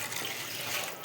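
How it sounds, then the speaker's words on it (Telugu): Water poured into a cooking pot while making tomato rice, a steady close splashing pour that runs briefly without interruption. "చూడండి ఇందులో నీళ్ళు పోస్తున్నాను"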